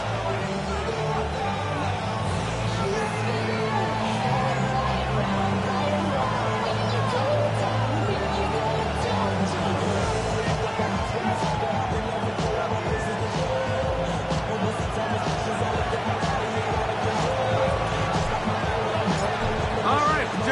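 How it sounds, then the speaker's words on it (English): Steady stadium crowd hubbub at a Pittsburgh Steelers versus New England Patriots football game in an EA Sports video game, a dense, continuous roar of many voices filling the whole stretch without any clear single speaker. "The crowd is definitely ready."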